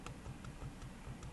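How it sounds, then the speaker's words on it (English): Keys tapped on a computer keyboard while moving the cursor in Vi mode in a Unix terminal, a few quiet, evenly spaced clicks over a low steady background hum. "If I want to go up, I'm going to use the K key."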